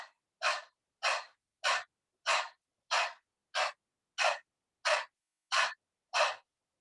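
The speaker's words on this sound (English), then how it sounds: "it is going to be rapid inhale and rapid exhale. So it is called dog breathing." Rapid, forceful breaths pushed in and out through a wide-open mouth with the tongue out, a panting dog-breathing exercise: eleven sharp, evenly spaced bursts in a steady rhythm, close and clear, with no talk.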